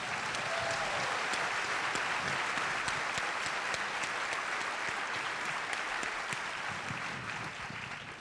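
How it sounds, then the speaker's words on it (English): Audience applause at a film festival celebrating fifteen years: a dense, sustained crowd of clapping hands, steady and fairly loud throughout, easing off slightly at the end. "So let's give them another round of applause."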